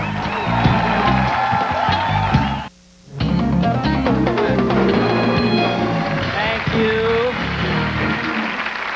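A talk show studio audience applauding and cheering, dense sustained clapping with whoops, broken by a brief cut before the applause resumes while someone speaks over it.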